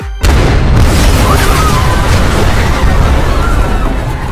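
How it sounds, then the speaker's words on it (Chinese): A large blast in a film scene, set off deliberately in a room with its gas and flammable fittings turned on; a sharp loud onset gives way to a sustained roaring rumble with crackling debris. "制造一起大爆炸掩人耳目。"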